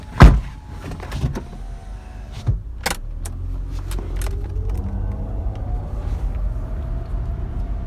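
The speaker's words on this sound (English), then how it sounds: "That's it. Windows go up." Power windows whirring up on a car with occupants inside, a loud thud and key-like clatter at the start, then a steady electric motor hum over low road rumble.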